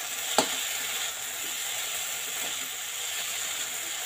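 Sabudana khichuri stirred in a pan after a short covered cook, a constant soft sizzle and hiss with one sharp clack of the spoon early on and faint scraping beneath.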